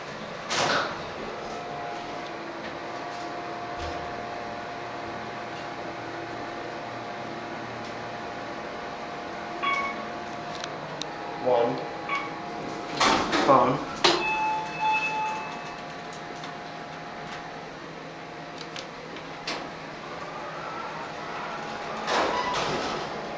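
An Otis Series 1 hydraulic elevator runs at a Days Inn in Plano, with a steady low hum and hiss broken by door rumbles and clunks in the middle and near the end.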